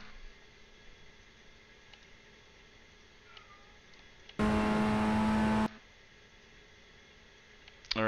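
Race car engine in the iRacing sim, a Formula Ford 1600 at Mid-Ohio, rising loudly through the revs in one strong burst of about a second mid-clip over a faint steady engine drone.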